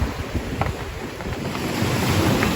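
Ocean waves wash on a beach at Alaminos, Pangasinan, a continuous rushing surf close by with heavy wind buffeting the microphone and no voices.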